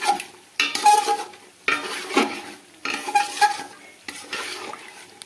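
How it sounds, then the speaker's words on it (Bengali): Yogurt being stirred into mutton biryani masala over a low flame: repeated bursts of spoon scraping a pot with a soft sizzle underneath, close and fairly loud, no voices. "দইটাকে এখন আমি দিয়ে দিলাম একদম লো ফ্লেমে করে নইলে দইটা ফেটে যেতে পারে তাই সঙ্গে সঙ্গে দইটাকে মিশিয়ে নিচ্ছি"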